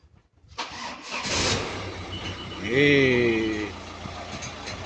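An Audi car engine cranks with a whirring starter, catches with a rising rev, then settles into a steady mid-pitched idle close by, after repairs to the alternator and starter; a voice speaks briefly.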